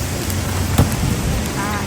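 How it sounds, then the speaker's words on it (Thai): Rain falls in a steady, hissing wash, loud and close, with a single brief knock partway through. "ฝนตกตก"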